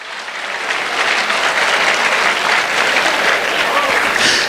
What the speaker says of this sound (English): Clap your hands if you know I'm right.